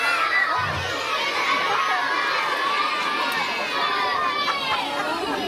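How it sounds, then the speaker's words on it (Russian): A crowd of first-grade children shouts in unison at a school first-day ceremony, a loud sustained burst of young voices cheering together throughout, with a short low thump near the start. "громко-громко хором крикнуть: хочу учиться на пятерке!"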